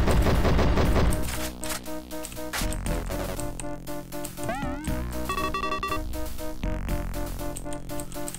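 Gunfire in the retro shooter Spear of Destiny, rapid chattering bursts of electronic shots with game beeps and pickup tones over droning game audio, no talk.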